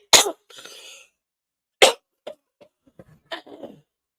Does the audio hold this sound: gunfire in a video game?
no